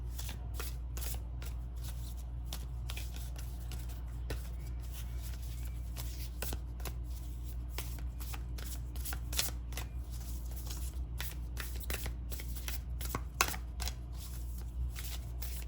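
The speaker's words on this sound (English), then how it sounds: "let's draw a couple of these cards." Tarot cards shuffled by hand, a long run of quick, close riffling and flicking bursts in irregular rhythm over a low steady hum, with no talk.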